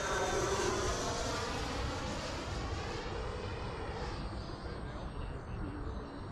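An FMS Avanti 90mm EDF sport RC jet flies overhead with a loud, steady ducted-fan whoosh and whine that slowly fades as it moves away.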